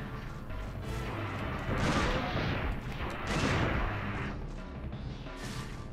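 Gunfire in the video game Dino Crisis 2, rapid repeated shots in bursts that swell and ease over several seconds, fairly quiet overall with faint voices underneath.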